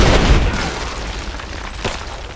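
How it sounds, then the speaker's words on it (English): Gunfire and explosions in the video game Rise of the Tomb Raider: a heavy, rumbling burst of blasts and dense firing that fades into a steady noisy roar, with one more thump near the end. "Open fire!"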